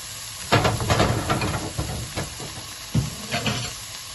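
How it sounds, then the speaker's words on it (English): Tuna pan frying in a hot pan gives a steady sizzle and hiss, with louder crackling bursts around stirring or flipping moments, close and alone without talk. "So let it pan fry for a while."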